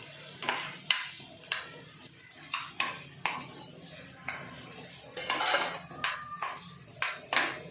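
Chicken leg pieces are mixed in a pan with turmeric, bringing repeated scraping and clinking strokes of a spoon on metal in an uneven rhythm over a soft sizzle, close and fairly loud.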